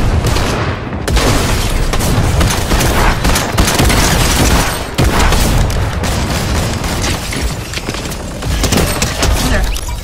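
Dense, continuous gunfire and booming blasts from a Fortnite match, including combat shotgun shots on a Creative gun-game map, packed loudly and steadily across the whole stretch.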